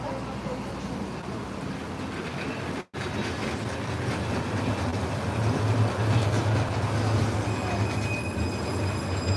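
A tram rolls along rails laid through a road in Russia, giving a steady rumbling roar with a low hum, close and continuous, while a voice speaks over it.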